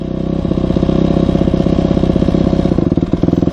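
A Yamaha YZ250F four-stroke dirt bike engine under way while riding, a loud, close, rapid-firing buzz that holds steady and then chops into uneven pulses near the end.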